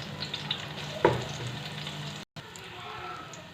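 Green chillies and cumin seeds fry in oil in a pan for mutton yakhni pulao, a soft steady sizzle with a brief clatter as something drops in, then a quiet crackle after a momentary gap.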